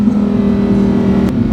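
Lamborghini Huracan Sterrato V8 held at high RPM, a loud, steady, close-up engine drone with a brief sharp click near the end and no talk.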